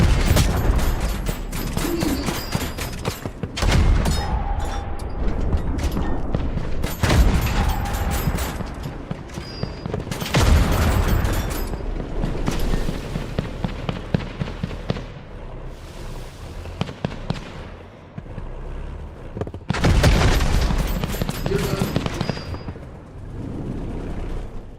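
Heavy gunfire rains on the player during a boss fight in the mech combat game Tankhead: dense crackling volleys and rapid shot trains, loud and nearly continuous, with big booming bursts breaking through.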